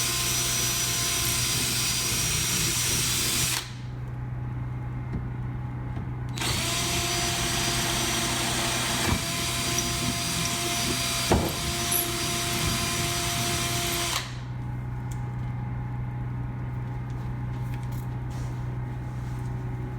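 A power drill bores holes in a Ranger bass boat for seat installation, two long steady whining runs separated by pauses, close and loud over a constant background hum.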